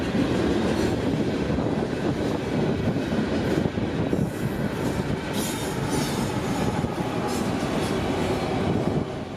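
A CSX freight train rolls into a rail yard, a loud steady rumble of wheels and cars with faint metallic squeal and clatter running through the whole stretch.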